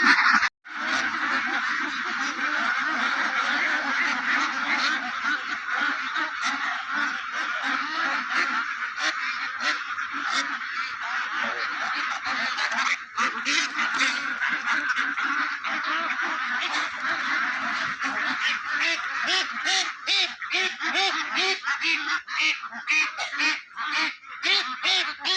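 A flock of farmyard ducks quacks and honks continuously and loudly at close range, a dense overlapping chorus of many birds with no pauses throughout.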